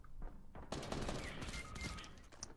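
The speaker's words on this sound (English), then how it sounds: "he got me with the suppress gun" Gunfire in Fortnite crackles in a dense, fast burst of shots from a suppressed gun, mixed with other game noise and with no talking.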